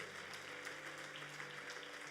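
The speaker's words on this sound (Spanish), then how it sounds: "Dale su ofrenda de palmas a Él." A church congregation claps together in steady, rapid applause over organ or keyboard music, loud and sustained throughout.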